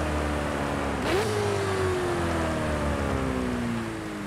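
A Ferrari 488 Challenge engine in the Forza Horizon 5 racing game rumbles steadily, with one quick rev blip followed by a slowly falling tone.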